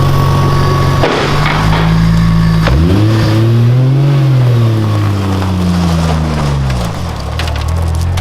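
A car drives again after a broken propshaft was repaired, its engine loud and close in a steady drone that rises and falls in pitch as it pulls away, with some rattling and knocking over the top.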